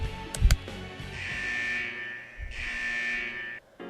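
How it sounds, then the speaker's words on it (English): An electronic buzzer in Persona 4 Arena marks the end of a test, sounding two long, loud, steady buzzes after a couple of sharp knocks. "buzzer signaling the end of the test echoes, just as I expect"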